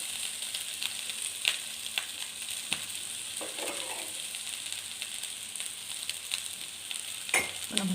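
Ragi semiya tossed with grated coconut in a pan, giving a soft continuous sizzle broken by repeated scraping and clinking strokes of a spoon, close and fairly quiet.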